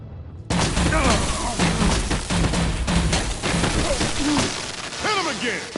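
Gunfire in the Batman: The Enemy Within video game: loud, sustained bursts and booms under shouting voices, with a dense, continuous wash of shots and impacts.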